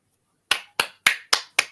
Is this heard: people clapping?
yes